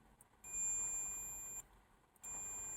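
A continuity tester sounds two steady high-pitched beeps, one long and one shorter after a pause, when its wire leads touch together during a VW Beetle rewiring job; faint and close, with no talk.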